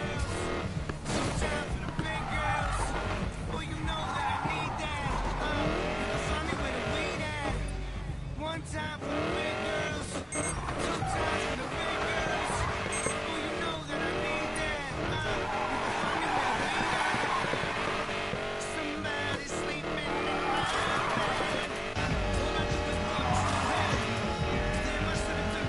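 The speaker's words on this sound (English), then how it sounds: "Nothing like kicking up some dirt." A race car is driven off-road in the video game Need for Speed Payback, its engine roaring steadily with revving, tire squeals and skids over a continuous loud mix as voices talk.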